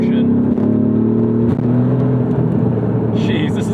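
Mercedes AMG GT R engine pulling hard under acceleration, a loud close growl with rising harmonic tones and a brief shift-like dip, then more revving.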